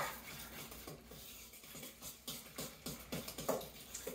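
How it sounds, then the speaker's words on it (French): A spoon stirs a recipe mixture in a bowl, giving soft irregular scrapes and light clinks in a quiet, close-up series. "On va mélanger ça."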